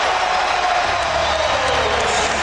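Big arena crowd at an NBA All-Star Game erupts in loud, dense cheering and applause, a continuous wall of roaring noise that fills the whole moment without a break.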